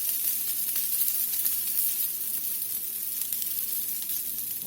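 Salmon fillets sizzle steadily in a lidded pan, a dense, even hiss of frying that continues without a break, close and fairly loud, with no voices.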